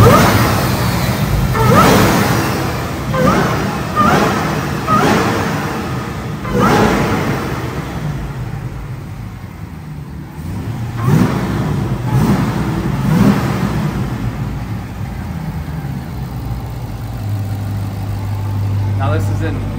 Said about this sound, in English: we're gonna get some rev for you right now